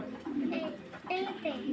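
Pigeons coo softly and repeatedly nearby, low rolling calls overlapping in an unhurried rhythm.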